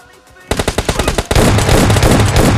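Gunfire in a solo-versus-squad shooter video game: a run of rapid, loud shots followed by a dense, continuous volley of firing, close and harsh.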